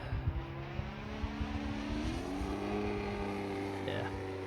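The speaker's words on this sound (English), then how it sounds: "this engine's running beautifully though" Gas engine of an Extreme Flight 91-inch Extra 300 V2 giant-scale RC plane in flight, a steady droning tone that rises in pitch midway, heard at moderate distance with someone talking over it.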